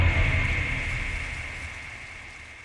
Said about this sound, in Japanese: そう、こんな強い雨の夜だった。